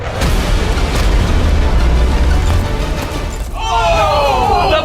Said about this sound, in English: Drop the bomb!